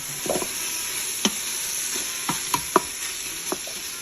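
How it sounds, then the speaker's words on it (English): Peruvian blonde beans and peppers stirred in a hot pan, a soft steady sizzle broken by several sharp utensil clicks and scrapes against the pan, close and alone. "what I'm gonna do is just stir this up a little bit with the peppers in it"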